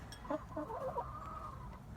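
A hen clucks a few times up close in a brief, quiet burst, followed by a softer drawn-out clucking note over faint background noise.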